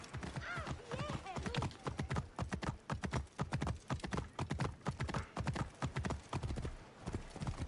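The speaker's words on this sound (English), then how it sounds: "Let's get on the horse." Steady, rapid horse hoofbeats clip-clop in a continuous rhythm, close and fairly loud, with occasional faint voices underneath, in the video game Assassin's Creed Origins.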